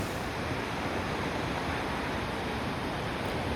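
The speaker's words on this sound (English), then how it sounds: "this is the Rogue River" Steady, loud broadband rush of the Rogue River flowing near Prospect, Oregon, a continuous close water roar with no breaks.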